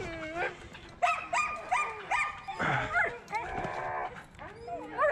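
Several Siberian Huskies bark, yip and whimper excitedly in quick bursts before racing, close and lively, with people calling out over them.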